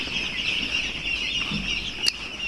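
Chickens clucking on a crowded poultry farm, soft scattered clucks over a constant high hum from the shed, with one brief sharp chirp near the end.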